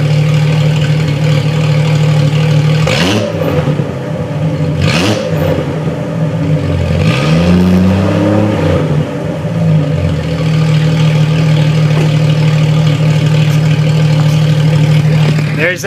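A straight-piped Jeep XJ Cherokee idles with a steady, loud drone, then its engine is revved in a few sharp bursts and a longer rising-and-falling rev before settling back to idle, close to the microphone.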